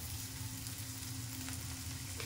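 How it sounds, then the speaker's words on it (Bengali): Sliced onions fry in a pan over medium flame for chicken curry, a steady, close sizzle and crackle with a constant low hum and no voices. "পেঁয়াজটাকে এবার একটু ভেজে নেব"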